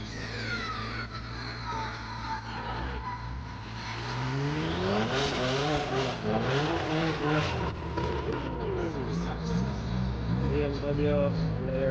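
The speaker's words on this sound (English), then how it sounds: "BMW in the right lane." A BMW accelerates hard in a drag race, its engine note climbing through rising revs over steady loud crowd and track noise, with a voice talking over it.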